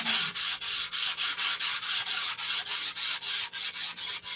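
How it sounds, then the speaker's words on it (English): An aircraft surface is hand-sanded in a hangar, with about twenty even, rhythmic back-and-forth rasping strokes, close and steady, with no talking. "More sanding."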